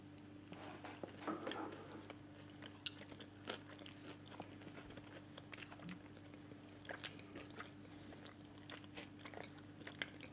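Someone bites into a chocolate hazelnut Nutella donut with thick glaze, giving a faint soft crunch followed by quiet chewing in a hushed room.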